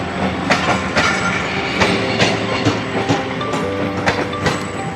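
A Pakistani passenger train running between Nawabshah and Bahawalpur toward Multan rolls loudly along the rails, with a steady rumble and regular clickety-clack wheel beats repeating about every second, heard from on board.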